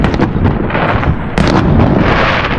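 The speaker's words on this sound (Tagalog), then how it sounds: "Pero nagpapaputok sila oh." Rapid loud bursts of New Year fireworks exploding, crackling and popping densely one after another, with a sharp burst midway.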